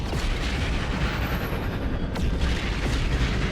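Heavy booming roar of starship squadron craft arriving in No Man's Sky, a dense continuous low rumble with deep thudding bursts, loud and sustained throughout.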